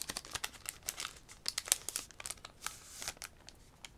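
Lorcana trading card booster pack being opened by hand, with a close, quiet series of irregular foil crinkles and crackles as the wrapper is pulled and the cards are slid out.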